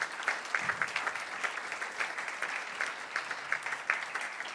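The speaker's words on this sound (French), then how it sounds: "On peut les applaudir." An audience claps at a French-language talk, a moderate, even patter of many hands that holds steady throughout without cheering.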